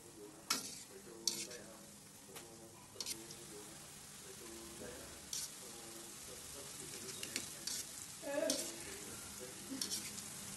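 Shankarpali dough pieces frying in oil over a low gas flame, turned now and then, giving a steady soft sizzle with sharp scraping clicks of a utensil against the pan, while a voice talks quietly underneath.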